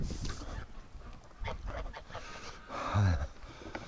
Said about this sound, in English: Sounds like a bunch of ducks in the barn.